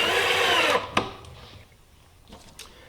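A power drill drives screws into a wooden drawer front, whirring close and loud for under a second before stopping with a sharp knock, followed by quieter handling sounds.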